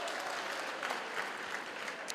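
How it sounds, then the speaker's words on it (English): Graduation audience at Walter Sisulu University clapping in a large hall, a thick continuous patter of many hands at steady level from start to end. "I would like us to give a round of applause to our parents and to the funders"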